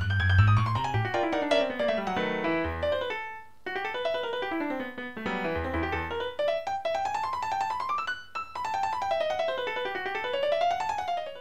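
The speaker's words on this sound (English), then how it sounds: "then here's the piano part all by itself" Solo big band piano part, with a bright melodic line running up and down over chords, sometimes a low bass figure. It plays steadily at moderate loudness with short pauses between phrases and no voices.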